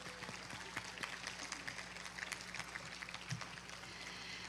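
Faint, distant applause from a large audience at an in-person university commencement ceremony, a soft even patter of many hands under a low steady hum.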